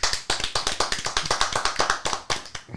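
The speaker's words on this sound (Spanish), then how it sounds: "Aplauso, por favor, por esa." A few people clap in a studio podcast setting, sharp distinct claps in a quick, slightly uneven rhythm, close and clear with no talk over them.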